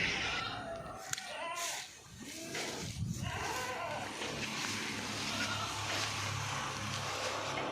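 A dairy goat bleats a few times nearby over a steady background hum, with some faint voices and outdoor noise.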